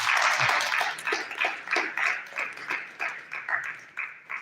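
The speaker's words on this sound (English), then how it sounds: "A round of applause for Prof. as he takes his seat." An audience at an intellectual property and technology transfer workshop gives a professor a round of applause as he sits down, a moderate, rhythmic clatter of hands from a modest crowd that ripples steadily without pause.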